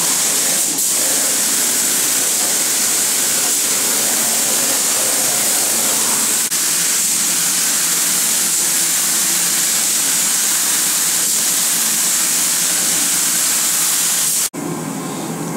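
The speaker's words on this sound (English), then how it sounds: "spraying the uh, sealer on now" A steady, loud hiss from a spray gun applying sealer to an MGB car body in a paint shop runs almost continuously, broadband and close, then cuts off abruptly near the end.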